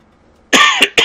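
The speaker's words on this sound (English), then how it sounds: "Wow, still got a cough." A person coughs sharply three times in quick succession, close and loud, with no talking, during Farming Simulator 17 gameplay.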